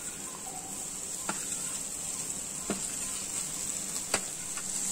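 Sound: egg yolk powder frying in oil

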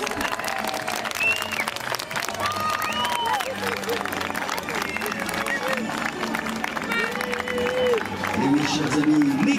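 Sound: audience applause after a cowboy duel show

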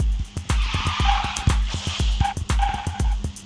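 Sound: car slide drifting in Garena Speed Drift video game

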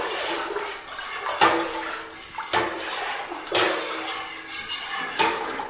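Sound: stirring corn wine must with orange juice using utensil

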